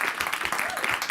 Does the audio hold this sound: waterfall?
no